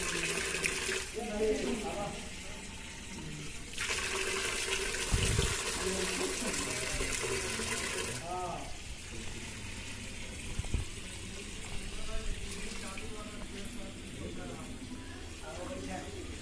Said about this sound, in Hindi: अच्छा ये पानी पीने वाला भी है। नल जल योजना का पानी है।